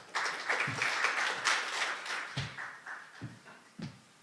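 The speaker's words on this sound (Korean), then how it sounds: "큰 박수로 모시겠습니다" Applause greets a speaker at an expert symposium, a steady wash of many hands clapping that gradually thins out over a few seconds, moderately loud in a large hall.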